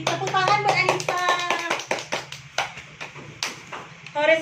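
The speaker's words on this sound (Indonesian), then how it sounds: "Tepuk tangan buat Anissa." Classroom clapping for a student, a handful of sharp, uneven hand claps sounding under a teacher's voice and children talking, with a brief burst of quicker claps at the end.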